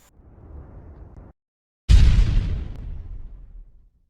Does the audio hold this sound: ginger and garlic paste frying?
no